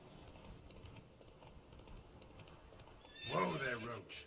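Roach, the player's horse in The Witcher 3, lets out a loud, close whinny in the last second, with a rising and then falling neigh over faint game ambience.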